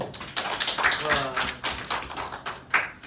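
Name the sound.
students clapping in class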